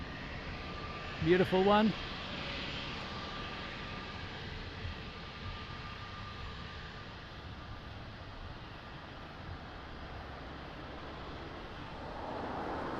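An Airbus A330 airliner on approach at Lisbon Airport produces a steady, broad jet roar that holds through the clip and swells slightly near the end, with a short spoken remark early on.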